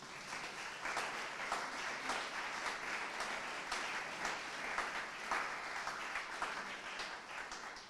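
Audience applause at the opening of an art exhibition for a young artists' prize, a continuous, even wash of many hands clapping, heard from a distance and fairly faint.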